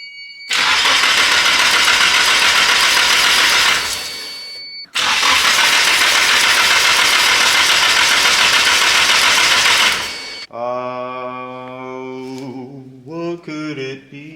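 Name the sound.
car engine starting and idling after MegaSquirt base map load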